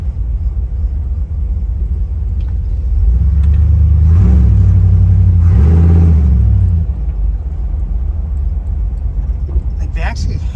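A 1979 Ford Bronco on 35-inch tires rumbles while driving, its deep engine note swelling louder mid-way and then easing back to a steady drone.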